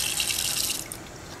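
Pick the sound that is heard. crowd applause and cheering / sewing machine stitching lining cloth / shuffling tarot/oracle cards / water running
water running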